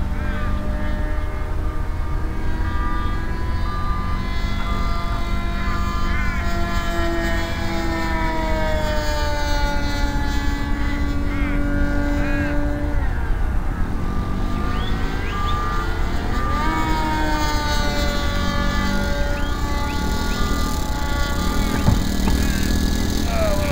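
The Starliner, a model aircraft, climbs in flight with a loud, steady engine drone whose pitch bends up and down as it maneuvers, heard continuously over wind noise and faint talk.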